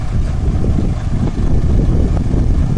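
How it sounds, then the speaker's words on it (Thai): Strong wind buffets the microphone around a Mitsubishi FN527 truck, a loud, continuous low roar with gusty surges and no pauses. "โอ้ลมแรงครับ"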